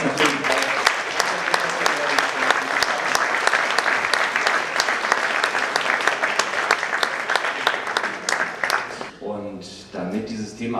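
An audience at a science-school award ceremony in Berlin applauds steadily for about nine seconds, dense and even, then dies away as a voice begins speaking.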